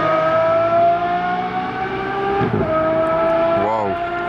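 An Aston Martin Valkyrie skids on a race circuit, a brief tire squeal rising over a loud, sustained engine drone, with a second short squeal following moments later.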